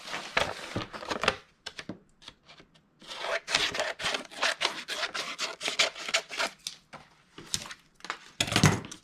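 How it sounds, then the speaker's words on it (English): Excess paper or cardstock is trimmed from a handmade nesting box in bursts of close, dry scraping and rasping cuts, separated by short pauses. "And then I'll just trim away my excess."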